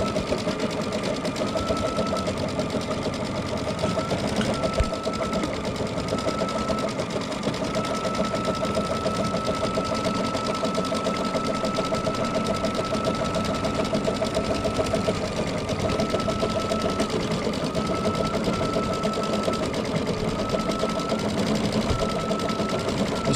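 An embroidery-style sewing machine quilts a continuous edge-to-edge pattern on a block held in a hoop, humming and stitching in a steady, rapid rhythm throughout at close range.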